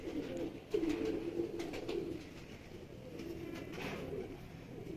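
Pigeons cooing in a Lahore pigeon loft: soft, low, rolling coos repeat several times at close range, fairly faint against a steady background hiss, with no talking.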